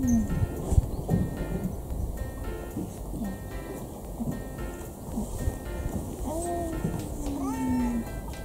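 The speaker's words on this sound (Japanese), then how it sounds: "そのね、猫ちゃん、ムックちゃんって言うんですけどね、この子がね、めちゃくちゃ可愛いので" Cat meowing repeatedly at a boat rental shop at Lake Sagami, drawn-out cries rising and falling in pitch, close by, with someone talking over background noise.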